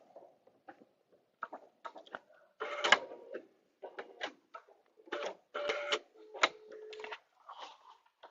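A sewing machine stitches through vinyl fabric for a zipper bag, running in short bursts of quick mechanical rattling separated by pauses as it sews and backs up a few stitches, fairly close and clear with no talk.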